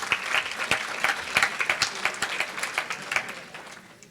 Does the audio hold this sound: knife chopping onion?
no